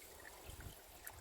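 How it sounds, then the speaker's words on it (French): A small waterfall spilling over a wooden dam in a woodland stream, heard as a soft, steady trickle and gurgle of running water, faint and continuous with no voices. "la cascade, elle fonctionne"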